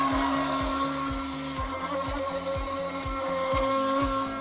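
Small remote-controlled toy boat from China with its electric motor running, a steady high whine with rhythmic low pulsing bursts, close and fairly loud, with no talk.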